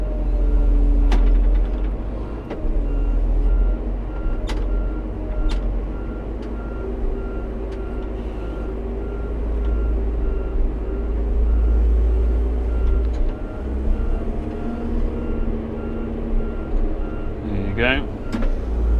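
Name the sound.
road grader engine running in first gear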